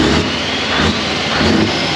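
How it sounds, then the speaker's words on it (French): A Scania V8 truck engine roars loudly and steadily close by, a thick continuous rumble under revving with slight swells in intensity. "Vas-y Mike, fais cracher le V8."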